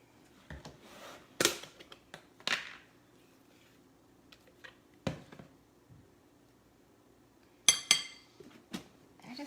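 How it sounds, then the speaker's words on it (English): Mayonnaise and plain Greek yogurt stirred together in a bowl, heard as sparse clinks and scrapes of a utensil against the bowl, with quiet gaps between strokes. "Just mix it up right in bowl."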